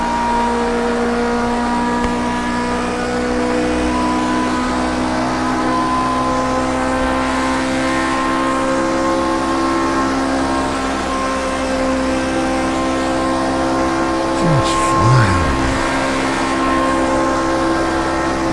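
A race car engine in the racing game Project Cars 2 drones at steady high revs on a banked corner, with a brief downshift burble near the end, loud and continuous.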